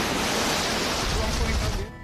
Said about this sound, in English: As the waves crash